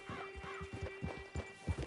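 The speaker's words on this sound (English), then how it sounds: "Get on the horse when you're ready." In the Red Dead Redemption 2 video game, a horse clip-clops with an even rhythm of hoofbeats and gives a short whinny near the start, heard close and fairly quiet.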